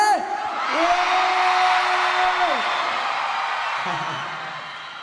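Fans at a Thai singing-contest final concert scream and cheer, a loud sustained roar of high shrieks that swells and then slowly fades, with a voice near the end.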